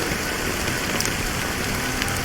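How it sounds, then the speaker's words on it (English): Rain falls in Honkai Star Rail, a dense, steady, loud hiss of drops hitting surfaces with no pauses and no voices. "But it's still raining."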